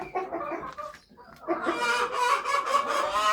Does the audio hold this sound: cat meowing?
no